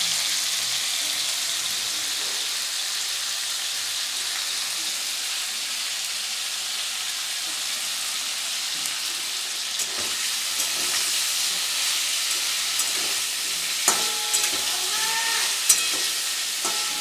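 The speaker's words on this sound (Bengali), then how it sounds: "এদিকে ইঁচড়টা ভাজা হতে থাক" Young green jackfruit fries in a pan with a steady, even sizzle throughout, joined near the end by a few sharp clinks of stirring.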